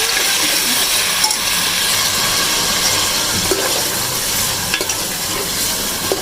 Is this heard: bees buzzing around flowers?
no